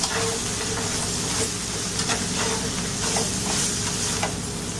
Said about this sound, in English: I'm going to saute this one for 5 to 10 minutes, then add the spices